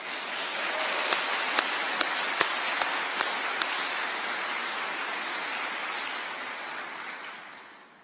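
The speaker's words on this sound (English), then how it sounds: "Would you two please stand up so we can give you some applause?" Sustained audience applause at a NASA budget event, a steady wash of clapping with a few sharper claps standing out, fading out at the end.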